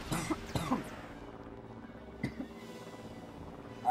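A person coughs several times in short sharp bursts early on, followed by a lone cough a little later, close and fairly quiet in an otherwise calm room.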